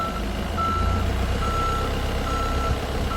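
Repeated reversing beeps from a forklift backing up during a driving skills test course, a steady pulsing alarm over low engine rumble, with no talk.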